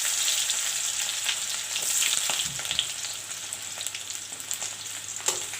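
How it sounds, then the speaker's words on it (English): Onions sizzle and fry steadily in hot oil with panch foran for a brinjal and potato curry, a dense continuous crackle with small stirring clicks and no voices. "Now the panch foran and the onions will fry."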